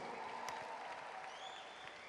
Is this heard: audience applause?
yes